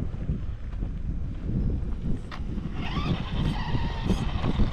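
An ARRMA Vorteks RC car drives and brakes, its motor whine rising and falling with tire scrubbing and a brief skid, close to the microphone under wind noise.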